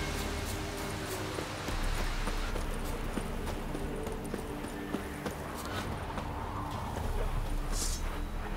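Horse hooves clip-clop steadily at a walking pace in The Witcher 3, a continuous rhythmic clatter at moderate distance over faint ambient background.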